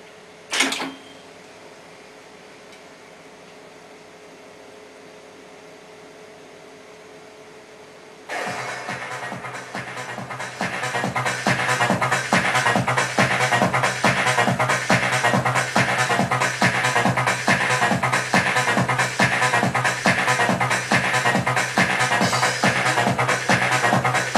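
A Studer valve tape machine plays back a recording: a click, then low hiss, then dense, steady, rhythmic playback that starts abruptly and grows louder, continuing evenly to the end.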